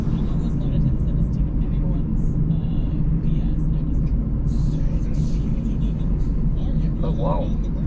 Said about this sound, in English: Oh wow, the Porsche is actually driving slow.